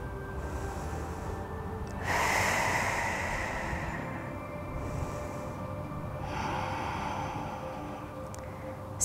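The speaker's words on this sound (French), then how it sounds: "On inspire et on expire au maximum." Deep, slow breaths during an exercise session alternate between long, airy inhales and exhales, each lasting several seconds. They are close and soft over a steady background hum.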